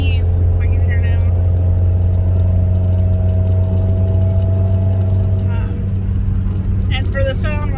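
A manual car with a catless downpipe and muffler delete drones steadily while driving, a loud continuous engine hum with a voice talking over it.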